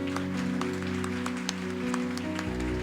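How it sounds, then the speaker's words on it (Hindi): A church congregation applauding together, a dense steady wash of clapping that holds evenly throughout, with music or a low instrumental drone underneath. "आइए प्रभु के लिए जोरदार तालियां बजाएं।"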